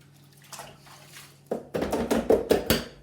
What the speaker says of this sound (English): So I'm going to wash my hands first. Now I've got a bowl of water here ready